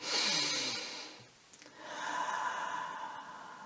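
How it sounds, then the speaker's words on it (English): Slow, deep breathing during a relaxation exercise before stitching: one long exhale that fades away, a short pause, then a drawn-in breath, heard close and alone. "So as you start to breathe in and out,"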